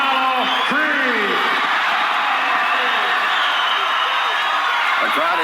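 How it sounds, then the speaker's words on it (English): A packed boxing arena crowd in Rocky IV roars continuously as Apollo Creed enters the ring, a dense wall of cheering that stays loud throughout while a voice speaks over it. "The crowd anticipating a great fight now as Apollo is in the ring."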